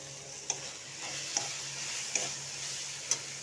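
Onions sautéing in a pan for kadala curry give a quiet, steady sizzle, broken by a few sharp ticks of stirring spaced about a second apart.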